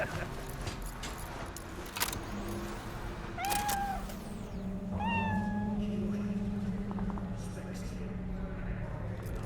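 A cat in the video game Cyberpunk 2077 meows a few times, clear and close, set against steady ambient game sound and a low engine-like hum.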